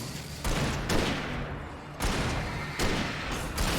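Repeated sharp blasts from a flare gun and other weapons in the Alan Wake video game, several loud bursts in quick succession over a dense, noisy game soundtrack.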